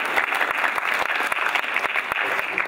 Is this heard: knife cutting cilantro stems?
no